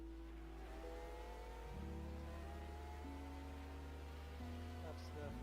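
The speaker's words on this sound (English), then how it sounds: "So maybe somebody with a very exciting engine is behind me." Race car engines in the GTR2 video game at the 2000 24 Hours of Le Mans, a loud steady mechanical drone with rising and shifting pitch as another car closes in from behind, filling the whole clip.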